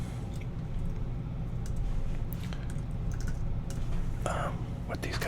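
Keys on a computer keyboard tap in irregular bursts close to the microphone, soft clicks under a quiet whispering voice in a hushed room.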